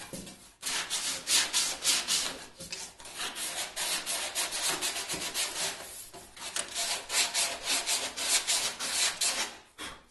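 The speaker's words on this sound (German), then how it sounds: "Man nimmt einfach das Schleifpapier an den Daumen und geht von unten rauf und kann dann so schleifen" Steady rasping of sandpaper held on the thumb, rubbed back and forth over the wooden back of a cajon kit, continuous strokes close up with brief pauses, no talking.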